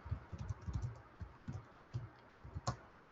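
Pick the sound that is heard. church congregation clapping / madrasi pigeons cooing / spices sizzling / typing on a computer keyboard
typing on a computer keyboard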